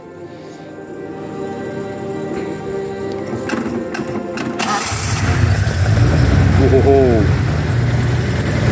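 A 1978 Datsun 260Z engine cranks and catches, then settles into a loud, rumbling idle close by; someone exclaims briefly.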